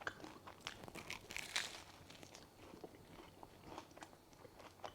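Someone bites into a BLT sandwich on thick cut sourdough with bacon, lettuce and tomato, close-up crunches followed by soft, quiet chewing.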